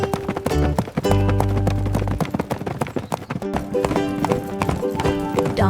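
A donkey's hooves clip-clop in a steady trotting rhythm as it pulls a cart, over bright, busy music.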